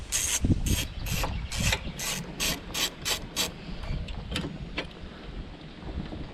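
A ratchet loosens a push mower's carburetor bolt with rapid, close bursts of clicking for the first few seconds, then fainter, sparser clicks over a low background rumble.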